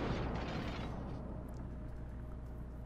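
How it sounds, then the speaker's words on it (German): Ship gunfire from a Des Moines cruiser in the naval video game World of Warships: a heavy, booming broadband blast at the start that settles into a dense, rumbling roar without a clear break. "So, die ersten Schüsse sind schon raus."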